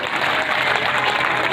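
A crowd at a religious katha gathering claps hard in a brief, dense burst of applause, close and even, with no voices on top.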